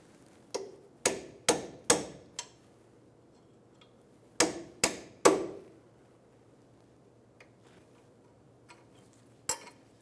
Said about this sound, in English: If you don't have a punch, you can put the nut back on and hit on top of the nut.